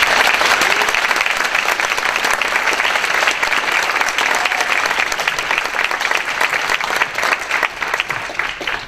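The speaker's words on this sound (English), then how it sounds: "can I have a round of applause for Miss Sandy Kleisman?" Sustained applause from a school winter concert audience, dense and steady for the full length, fading slightly near the end, with no voices over it.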